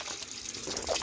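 Water from a natural spring fountain fed from deep underground flows in a steady, soft trickle outdoors, a faint continuous wash with no voices.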